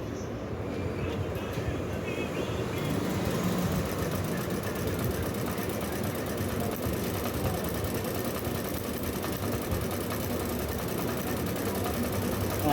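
A sewing machine stitches a strip across the front panel of a men's kurta, running at an even, unhurried pace as one continuous mechanical whir with no pauses.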